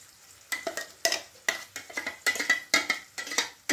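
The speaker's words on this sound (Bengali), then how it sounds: "এবার অ্যাড করব স্পিনাচ পেস্টটা।" Spinach paste going into a hot pan for a creamy spinach soup and being stirred, with a run of close, distinct scraping and sizzling strokes that come in bursts, alone and fairly loud.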